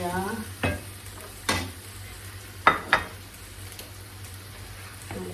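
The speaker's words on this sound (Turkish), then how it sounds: "Güzelce kavurdum." Hot peppers sautéing in a pan, a soft steady sizzle with several sharp scraping stirs at irregular intervals.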